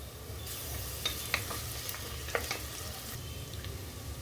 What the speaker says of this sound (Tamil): வெங்காயம் நல்லா வதங்கட்டும். இஞ்சி பூண்டு பேஸ்ட் சேர்த்துக்கிறேன்.